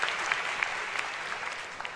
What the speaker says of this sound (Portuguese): Para Ele, aleluia, aplaudam Ele.